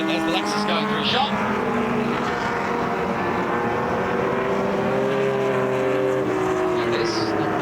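Vintage racing Porsche 914 at Mid-Ohio roars past with a steady, loud engine note and sliding pitch, other race cars audible around it, with a commentator speaking throughout.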